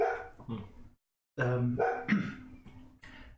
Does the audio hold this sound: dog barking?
yes